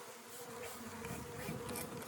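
A swarm of bees clustered inside an old house hums in a close, dense, continuous buzz, heard alone throughout with a slightly wavering pitch.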